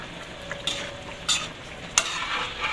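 Fish paksiw simmering in coconut milk in a pot is stirred, with a soft sizzle underneath and a few brief scraping strokes standing out near and fairly quiet.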